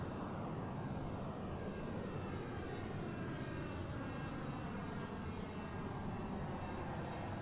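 Steady, loud Learjet 35 jet engine drone in a flight simulator during level cruise at flight level 370, a continuous broadband roar with no break or voice.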